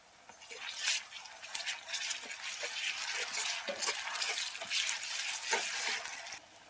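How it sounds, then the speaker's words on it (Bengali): Onions frying in a pan with ginger-garlic paste, heard as a soft, steady crackle with scattered wet pops and stirring scrapes throughout, close and moderate in level, with no voices. "পেঁয়াজটাকে লাল লাল করে ভেজে নেব। দিয়ে দেবো আদা রসুন বাটা একসাথে মিক্সড করা আছে।"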